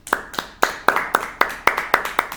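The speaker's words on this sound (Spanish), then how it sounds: "aplauso al Señor" A church congregation claps in praise during a sermon, sharp unified claps landing on a steady beat, about ten strikes in a row, fairly close and crisp.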